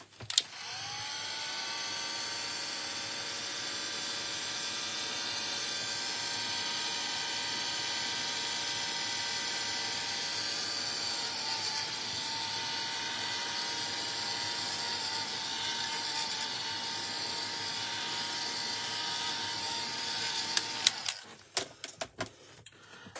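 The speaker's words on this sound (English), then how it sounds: "we're going to give that a little blast with our heat tool" A handheld craft heat tool blowing hot air over a craft transparency, a steady close whirring fan roar that holds unbroken for about twenty seconds before clicking off.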